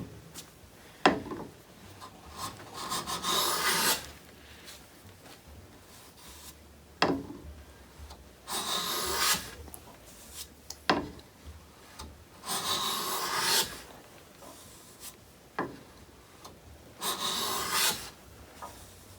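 Hand plane shaving a wood board in a comparison of Stanley, Veritas and Lie-Nielsen planes, repeated rasping strokes in a steady rhythm, moderately near, with quiet pauses between passes.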